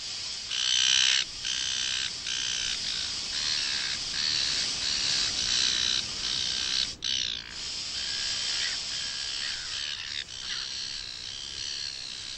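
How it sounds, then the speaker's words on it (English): Squawking, cawing seagulls fighting, dubbed in as a film sound effect, a dense, continuous chorus of harsh bird calls, loud and close, with brief dips between bursts. "instantly they cut in audio of seagulls fighting, probably over a chip or something"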